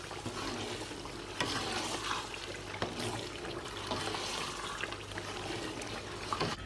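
A pot of stew cooks on the fire with steady bubbling and simmering, broken by occasional sharp scrapes and clinks of a spoon stirring, quiet and close.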